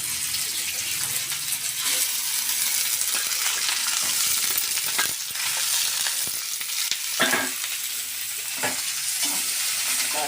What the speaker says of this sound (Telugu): ఆయిల్ కాగింది కదా, ఇవి నల్లేరు వేసి వేయించుకోవాలి.